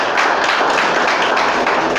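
A church congregation applauding, steady dense clapping that fills the whole short stretch at an even, loud level.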